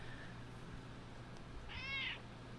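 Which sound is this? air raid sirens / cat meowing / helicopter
cat meowing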